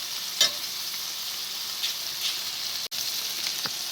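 Butter sizzles in a frying pan before hash browns go in, a steady close hiss of frying with a few brief louder crackles and no talk.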